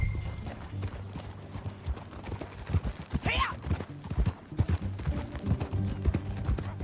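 Horse hooves clip-clop steadily on the ground in the Western video game Red Dead Redemption 2, close and rhythmic, with brief spoken voices and a short whinny mixed in.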